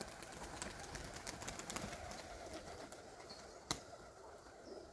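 Pigeons released at dawn flutter and clap their wings faintly in the distance, a soft outdoor backdrop with a few sharp wing claps and one louder snap near the end.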